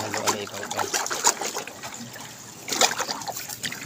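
Hydroponic nutrient solution stirred in a water tub for a lettuce setup, with soft trickling, sloshing and light splashes that come in uneven bursts, moderately close, with a louder swirl near the end.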